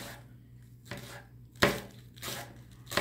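Spring onions being finely chopped with a knife on a board, several sharp chopping knocks spaced through a short quiet stretch with faint background hum.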